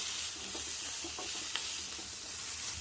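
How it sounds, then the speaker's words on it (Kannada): Lentils with a pinch of turmeric frying in oil over medium heat for a South Indian drumstick saaru, a steady close sizzle with a few soft stirring scrapes, no voices. "ಎಣ್ಣೆ ಒಳಗೆ ಒಂದು 10 ನಿಮಿಷ ಮಧ್ಯಮ ಉರಿಯೊಳಗೆ ಫ್ರೈ ಮಾಡ್ಕೊತೀನಿ"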